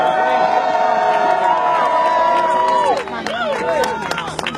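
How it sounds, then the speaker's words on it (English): An outdoor crowd at a candlelight vigil in front of the White House in Washington DC cheers and whoops loudly, with scattered applause that thins toward the end. "So give yourself a round of applause for coming out tonight."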